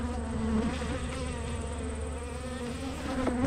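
Honey bees hum steadily inside an opened hive full of wax-sealed honey, a dense, continuous close-up buzz with faint higher whines of individual bees passing.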